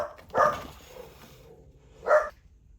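Two short barks from a dog indoors, about a second and a half apart, moderately near and sharp against a quiet room, with no talking.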